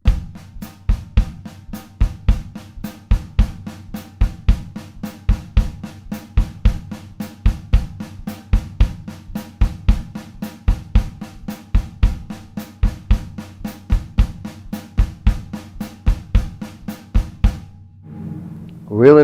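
A drum kit plays steady 16th notes, the right hand on the hi-hat with kick drum strokes locked in, an even close pattern of sharp hits that keeps on for most of the passage before stopping.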